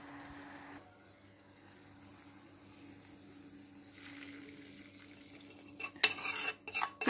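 Banana barfi mixture being stirred with sugar syrup: a soft, low bubbling background for several seconds, then louder close scraping and stirring strokes at the end.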